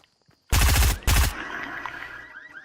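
Two loud bursts of automatic gunfire in Fortnite rattle out back to back, the second shorter, followed by a trailing echo and faint game ambience; no talking.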